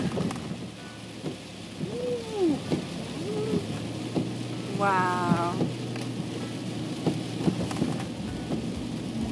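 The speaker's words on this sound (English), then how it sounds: "Didn't think it'd be pouring down rain when we got to Kentucky." Steady pouring rain in Kentucky with broadband hiss, a low rumble underneath, and a brief exclamation from a voice partway through.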